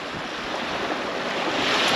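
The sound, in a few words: wind blowing at the coast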